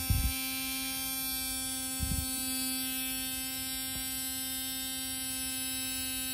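Tamiya mini 4WD dynamo motor spinning clockwise during a quick break-in, a steady electric whine and hum running throughout, with a few brief clicks near the start.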